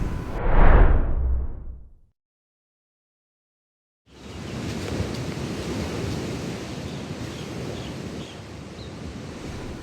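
Sea waves roll in off the Andaman Sea coast at Phuket, a loud surging wash that fades into silence, then a broad continuous roar of surf mixed with wind buffeting the microphone.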